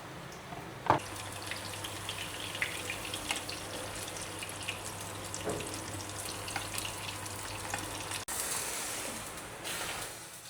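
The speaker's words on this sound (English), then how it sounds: "Adding a little shallot." Shallot sizzles in a pan with a faint, steady frying hiss after a soft drop into the oil, ending with a brief louder burst of sizzle.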